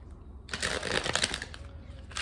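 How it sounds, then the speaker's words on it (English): A deck of cards is riffled in one quick, crisp burst of fluttering clicks, close by, followed by a brief softer shuffle. "I'm gonna go ahead and shuffle some cards"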